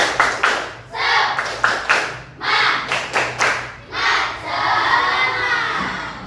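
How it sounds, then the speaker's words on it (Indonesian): A group claps together in a quick patterned rhythm, an Indonesian "tepuk semangat" cheer, sharp bursts in sets, ending with a longer run of brisk clapping and some voices. "Sebelumnya, tepuk semangat."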